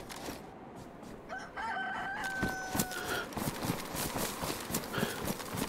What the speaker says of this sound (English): That cockerel needs to be quiet.